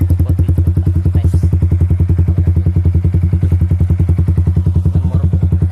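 Motorcycle idling through a Pure Sound WRX GP aftermarket exhaust, recorded up close. It gives a loud, deep, rapid, even thumping pulse that holds steady throughout.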